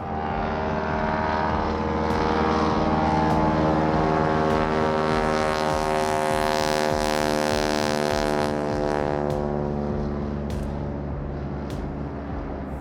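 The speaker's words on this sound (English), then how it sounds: "We start taxiing across the lake. The engine ramps up," A small floatplane's propeller engine roars and steadily builds in pitch as it taxis across a lake for takeoff, loud, close and sustained, with no talk over it.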